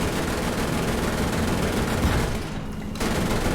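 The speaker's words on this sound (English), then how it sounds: "Now this has a cannon on it." A 30mm aircraft cannon in the War Thunder combat game fires in a sustained, dense burst of rapid shots that fills the mix loudly, breaking off briefly near the end before resuming.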